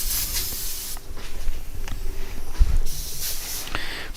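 An airbrush sprays paint on graffiti-style art with a clogged nozzle, giving close, uneven hissing bursts that surge and drop over a few seconds.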